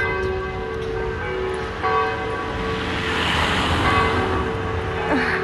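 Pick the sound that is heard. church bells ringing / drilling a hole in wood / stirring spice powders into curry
church bells ringing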